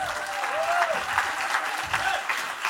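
Applause from a seated audience at a French-language talk, steady clapping of moderate loudness with no speech over it.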